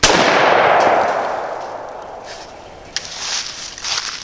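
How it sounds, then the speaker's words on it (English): A single loud gunshot fires at a target outdoors after the sights are adjusted, its sharp blast decaying into a long rolling echo, followed by faint shuffling and handling noises. "so I'm going to shoot the middle again"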